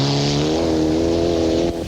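A rally car at Rally Wairarapa in the 2005 New Zealand Rally Championship roars close by under partial braking, its engine note loud and steady before dropping off at the end.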